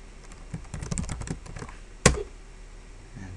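Computer keyboard typing, a quick run of soft, close key taps followed by one sharper keystroke, with no speech.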